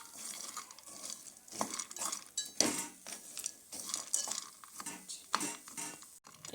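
Cashews, almonds and dried figs are stirred around a pan for coconut dry fruit laddu, giving close, irregular scrapes and metallic clinks of a spoon against the pan in bursts, with no voices.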